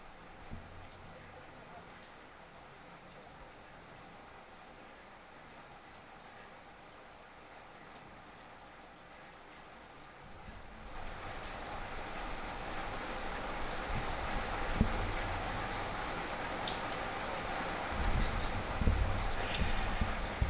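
Heavy rain pounding outside during a home livestream, quieter and distant at first, then swelling into a loud, steady roar of drops on surfaces as a microphone's gain is raised.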